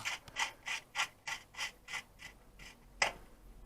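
A nut is tightened on the rear lower control arm bushing of a Mercedes, giving a close, regular series of about ten ratcheting clicks followed by one sharper final click, with no speech.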